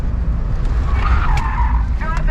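Tires skid as a car drifts at a Dallas motorsport venue, a sustained squealing screech rising over loud engine roar, with excited voices shouting close by.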